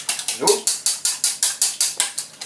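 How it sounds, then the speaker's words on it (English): A maple syrup dressing is whisked briskly in a bowl, giving a quick, even run of scratchy, clicking strokes about five per second, close and fairly loud with no talking. "Give it a good whisk otherwise, and it'll start to emulsify and it'll thicken up a little bit."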